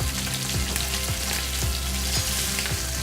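Bacon-wrapped salmon frying in a hot pan, a steady close sizzle and crackle with a continuous hiss and no voices.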